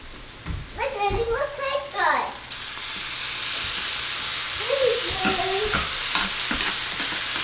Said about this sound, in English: Let that saute for a quick second